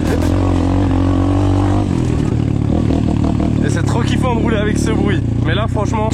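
An Apollo Sano DMZ 250 motorcycle engine revs loudly and continuously up close, its pitch rising and falling, while someone talks over it.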